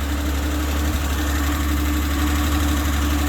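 A 1950 Plymouth two-door's engine idles steadily with a low, even exhaust rumble, constant and close with no talking.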